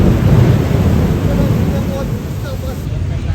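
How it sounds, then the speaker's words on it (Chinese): Heavy rainstorm pouring down at the Singapore checkpoint, a dense, steady roar of rain with low rumbling wash filling the whole stretch, close and loud without letup. "现在雨非常大"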